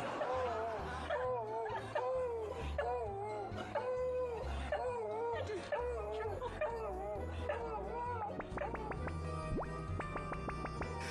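A dog greets its owner, back after a long absence, with a run of wavering whimpers and drawn-out howls, close and fairly loud over a steady low background.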